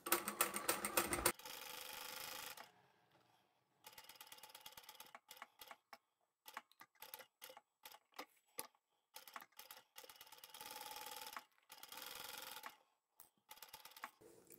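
A sewing machine stitches fabric for a jar opener in bursts of rapid mechanical whirring, some long runs and many short stop-start pulses separated by silence, close and clear with no talking.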